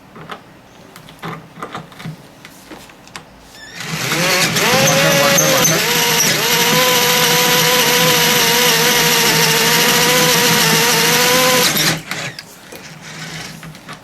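A loud, steady high-pitched whine of a drill cutting into an orthopaedic metal plate, running continuously for several seconds before stopping abruptly.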